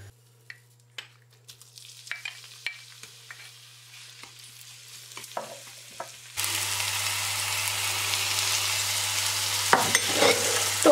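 Onions for a stuffed pepper filling sauté in olive oil. Quiet clicks and taps are followed by a sudden, loud, continuous sizzle partway through, close up, with stirring noises near the end.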